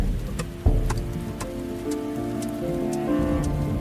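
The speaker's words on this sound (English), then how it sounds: "Tonight it's raining," Steady rain falls at night in a La Brea tar pit setting, a dense continuous patter of drops striking surfaces, with a sharp knock early on and faint ticks scattered through, no voices.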